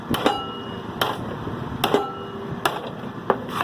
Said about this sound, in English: I have to do some body work with that big sledgehammer over there